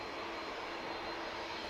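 An EasyJet airliner taxiing at Manchester Airport, bound for Amsterdam, gives a steady, dense engine roar that holds even throughout, loud and unbroken with no voices.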